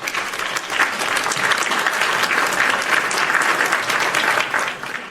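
Steady applause from a crowd of many hands clapping, dense and continuous at a fairly loud level for the whole stretch, tapering slightly at the very end.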